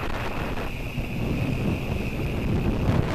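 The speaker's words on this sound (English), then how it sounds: "That wind is ridiculous." Strong wind buffets the microphone outdoors during a hexacopter maiden flight, a steady rushing roar with gusty low rumbles and a faint high whine from the craft, no talking.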